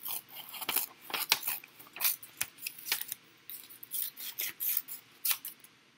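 Scissors snipping out paper pieces one at a time, a run of short crisp cuts in an irregular rhythm, close and fairly quiet with no talking.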